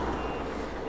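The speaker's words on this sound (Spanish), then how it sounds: "miren ese camión que está entrando ahí" Steady electronic reversing beeps from a truck, continuous and fairly loud over a broad rumble of engine and traffic noise.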